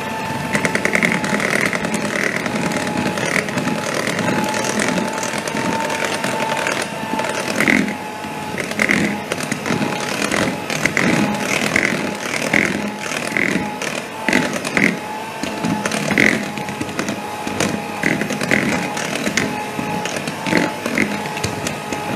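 An electric mixer whirs loudly and continuously through banana brownie batter with flour, cornstarch and cocoa powder at a live baking demo event, its motor buzzing with rattly, uneven pulses throughout.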